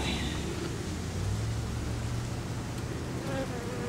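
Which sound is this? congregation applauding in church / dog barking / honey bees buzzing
honey bees buzzing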